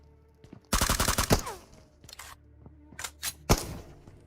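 Gunfire in the BGMI battle royale game while downing an enemy: a rapid automatic burst up close, then scattered single shots and short bursts over low background noise.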